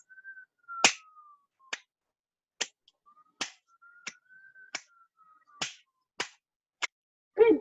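Finger snaps in a strong-weak-weak triple meter, roughly eight crisp snaps spaced evenly, with a faint whistled tone running underneath between them; close and fairly quiet, no talking.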